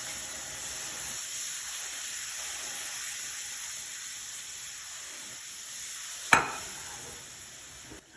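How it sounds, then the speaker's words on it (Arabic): Boiled sugar-water syrup poured bit by bit into flour halva while it is stirred continuously, giving a steady bubbling sizzle and hiss with a sudden sharp splash-like burst partway through, without any talk. "وعندنا الميه بالسكر غلت، وهنبتدي نضيفها بالتدريج، مش هنحطها كلها مره واحده. لازم تقلبي على طول كده عشان ما تكلكعش منك."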